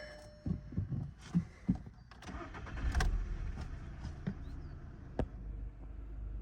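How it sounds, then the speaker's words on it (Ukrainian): A 2008 Skoda Octavia A5 1.6 petrol/gas engine cranks with a few clattering bursts, then catches and settles into a steady low idle rumble, heard up close. "Запускаємо двигун."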